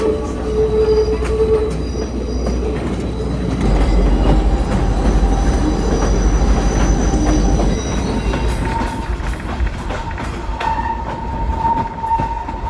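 Passenger train running from Ella to Kandy in Sri Lanka, with a constant loud rumble of wheels on rails, rhythmic clatter and intermittent high wheel squeal heard from inside the carriage.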